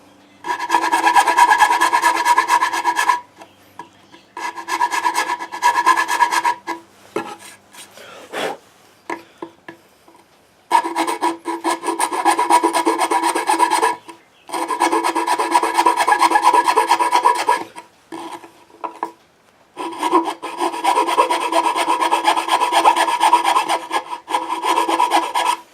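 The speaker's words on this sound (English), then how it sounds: "See, I'm just simply filing it down, especially in the corners." A round file rasps against a steel railroad spike in long bursts of rhythmic back-and-forth strokes, loud and close, separated by short pauses and a few scattered scrapes.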